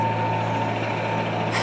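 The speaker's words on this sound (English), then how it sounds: "Concrete truck, oh my gosh." A concrete truck rumbles loudly and steadily nearby, its low engine drone constant with a high tonal beep running throughout, like a reversing alarm.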